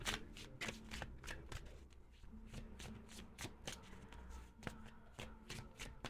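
Tarot cards are shuffled over and over close by, a soft, quick riffling and flicking that repeats in short bursts at low volume.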